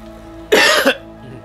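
A single harsh cough, close and loud, bursting out in one short fit before fading back to quiet room tone.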